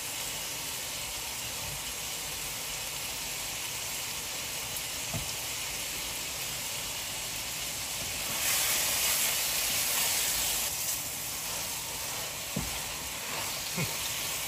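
Steady sizzling hiss of Chinese ridge gourd sautéing in a hot pan, constant and close, swelling briefly louder midway with a few soft clicks of stirring.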